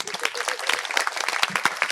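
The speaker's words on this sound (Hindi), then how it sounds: "ताली बजाइए इनके लिए भाई" An audience claps in a short burst of applause, sharp individual hand claps tightly packed and close, lasting only a couple of seconds.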